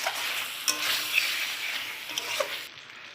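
Pointed gourd (potol) sautéing in oil in a pan with yogurt, a steady broadband sizzle with a few sharp stirring clinks and scrapes, close and continuous, no talk.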